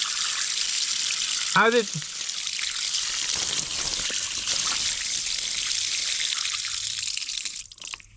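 Water trickles and pours steadily inside an Åkerman EC-300 excavator, a continuous close wash of spilling flow lasting throughout, with a person speaking briefly over it in surprise.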